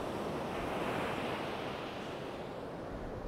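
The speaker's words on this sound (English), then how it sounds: "The sea state is doing nothing but getting worse." Rough North Sea surf breaks steadily on the sandy beach at Sutton on Sea on the English east coast. The roar is broad, dense and continuous, with gusting wind buffeting the microphone and no voices.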